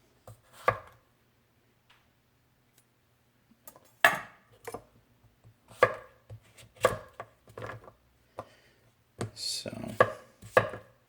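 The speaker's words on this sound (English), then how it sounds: "let's see if it'll even chop" A CJA Edged Art 210mm AEB-L gyuto chef's knife chops through squash on a board in a series of sharp, close thuds, some single and some in quick clusters, with a brief spoken word.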